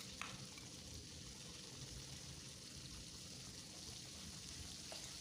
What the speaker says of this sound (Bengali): এবার আলুগুলোর সঙ্গে একসঙ্গে ভেজে নেব।